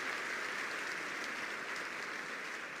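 A church congregation applauds steadily, a dense, even wash of many hands clapping that fills the room without pause, moderately loud and unbroken by speech.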